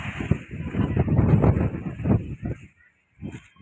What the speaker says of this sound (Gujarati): ફૂલ પવન ચાલુ થઈ ગયો છે